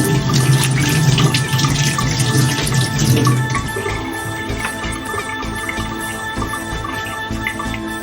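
Water runs steadily into a pot while tuna is cooked, a continuous splashing pour that holds for several seconds, fairly close and with no voice over it.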